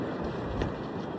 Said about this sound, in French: C'est quoi ce vent?